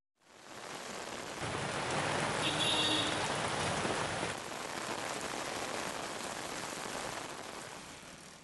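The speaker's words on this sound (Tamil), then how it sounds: "மதுரை மாவட்டத்தின் பல்வேறு பகுதிகளில் இன்றும் பரவலாக மழை பெய்தது." Steady rain pours down in Madurai district, a dense continuous hiss of drops striking surfaces that swells slightly midway and holds for several seconds with no voices.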